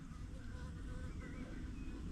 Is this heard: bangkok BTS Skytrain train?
no